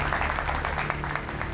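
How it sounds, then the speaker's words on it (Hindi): Onlookers clap loudly after a strongman cracks 111 walnuts in a record attempt: a brief, dense, continuous wash of applause with faint crowd voices. "तालियां होनी चाहिए बहुत जोर से"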